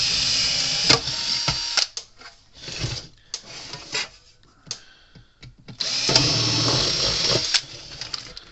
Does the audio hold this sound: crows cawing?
no